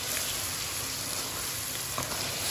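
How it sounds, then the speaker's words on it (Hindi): Chopped tomatoes frying in masala in a pan for aloo chicken give off a steady, moderately quiet sizzle that carries on evenly throughout, with no voices. "टमाटरों को अच्छी तरह से भूनेंगे, बिल्कुल अच्छी तरह से मिक्स हो जाए बीच में"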